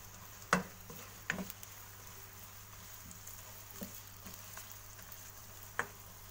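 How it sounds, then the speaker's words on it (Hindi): Sliced onions fry in a small amount of oil in a kadai, giving a low steady sizzle with a few soft clicks and taps of stirring, faint and close, with no voice. "इसमें मैं प्याज ऐड कर दूंगी और इसको हल्का सा हम गोल्डन सा फ्राई कर लेंगे"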